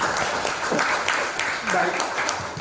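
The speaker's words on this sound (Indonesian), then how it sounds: "saya mengajak kita semua memberikan aplaus sebelum dimulai" An audience at a gathering applauds in a brief burst of mixed clapping, with a voice talking over it.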